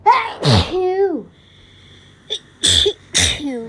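Close, loud hay fever sneezing: one big sneeze with a drawn-out voiced tail, a quiet gap, then a quick pair of sharp sneezes in rapid succession with short breathy catches between.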